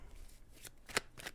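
Tarot cards being shuffled by hand, soft riffling brushes with one sharp snap of a card, close and quiet with no talking.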